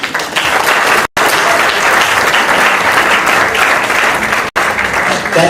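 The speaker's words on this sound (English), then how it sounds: "Nice round of applause, please, for Ray Tierney" A large audience at a community association event gives a loud, sustained round of applause for Ray Tierney, dense continuous clapping with two very brief dips before it carries on to the end.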